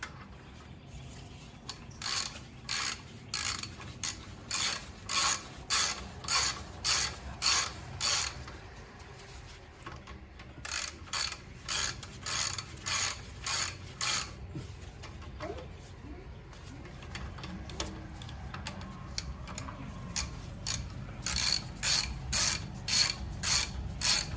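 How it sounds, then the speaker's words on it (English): Ratchet wrench snugging the brake caliper bolts on a 5th-gen Toyota 4Runner during a brake pad job, bursts of rapid clicking ratcheting close up, repeated in short runs with pauses between. "I'm gonna go ahead and snug it up, then I'll final torque it with the wrench."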